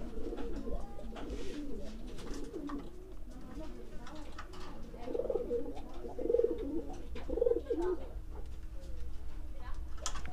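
Pigeons coo in soft repeated low phrases during a pigeon-mating session, close by, under a steady background hum and occasional talk.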